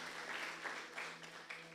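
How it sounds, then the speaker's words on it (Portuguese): A church congregation claps together in a steady, faint wash of applause with soft, rising swells and no voices over it. "Glória a Deus, pode aplaudir, ó. Pode aplaudir, é a palavra de Deus."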